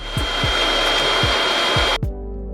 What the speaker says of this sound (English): the sound is about as loud as a standard vacuum cleaner